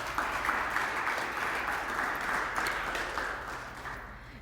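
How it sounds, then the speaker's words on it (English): An audience at a high school letter of intent signing applauds Mr. and Mrs. Reese, a steady wash of clapping from a modest crowd that tapers off at the end. "Let's give a big round of applause to Mr."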